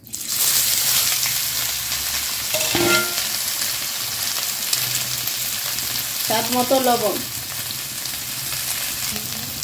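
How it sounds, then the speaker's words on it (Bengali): Boiled soybean chunks sizzle in hot oil in a kadai, a loud continuous crackling fry with stirring, while someone speaks briefly twice over it. "তেলটা গরম হয়ে গেছে, এখন দিয়ে দিব সয়াবিন"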